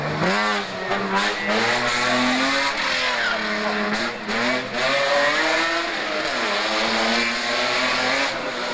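A group F rally car, a BMW 320 at the Montastruc rally, drives hard and close with loud, continuous engine revving that rises and falls through gear changes, with brief tyre noise and no talk.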